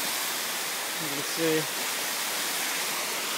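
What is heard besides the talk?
waterfall rushing into a creek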